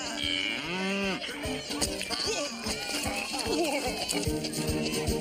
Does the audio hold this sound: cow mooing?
yes